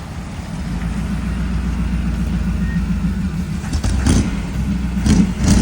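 A 1947 Ford flathead V8 engine runs with a steady, loud low rumble, and a couple of brief surges rise near the end.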